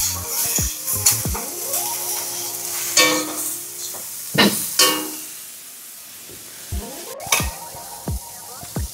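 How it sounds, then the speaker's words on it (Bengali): Vegetables for fried rice, seasoned with sugar and salt, are stirred in a hot pan. A spatula scrapes and knocks against the metal at irregular moments over a soft, close sizzle. "ভালো করে দিয়ে একটু নেড়ে ছেড়ে নিতে হবে।"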